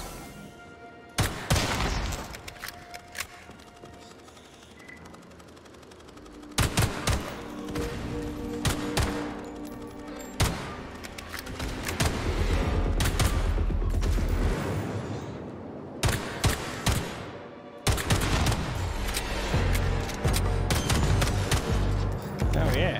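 Gunshots in Atomic Heart, repeated loud sharp blasts in clusters separated by brief lulls, with a voice talking over parts of the action.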